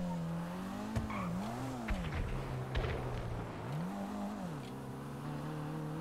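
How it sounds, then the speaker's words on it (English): Maibatsu Penumbra FF engine in GTA Online holding a steady high over-rev drone, its pitch dipping and swooping back up twice, with brief tire squeal and skid noises, loud and close. "you can throw that thing all you want into over-rev, and it goes about this speed when it's over-revving."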